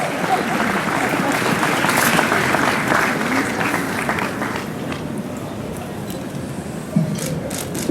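Spontaneous audience applause at a Ljubljana city ceremony marking the European Green Capital title, dense steady clapping from a crowd that gradually thins and fades toward the end.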